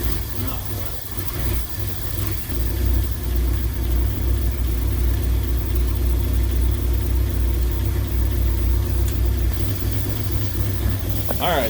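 A Mercury car's engine idles steadily after a Motorcraft 2100 carburetor rebuild, a loud, continuous low rumble close by, with a slight rise early on and a brief faint noise at the end; no talking.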